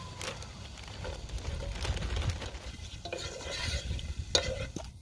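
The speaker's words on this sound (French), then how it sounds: "Je vais faire fondre du beurre. Et je vais faire rôtir mes oignons et mon céleri." Onions and celery fry in melted butter in a pan, a steady low sizzle under repeated stirring scrapes and occasional utensil clicks, close and moderately quiet, with no speech.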